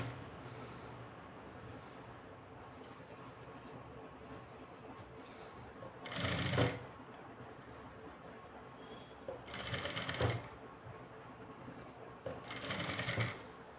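A sewing machine stitches a blouse sleeve in three short bursts of rapid, rattling mechanical stitching, close up, separated by pauses filled with low room noise.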